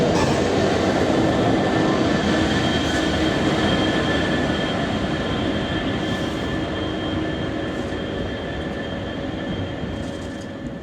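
A train on the former LB&SCR route to Horsham moves off toward the station sidings, a loud, steady rumble with a sustained whine that fades slightly as it goes, with no voices.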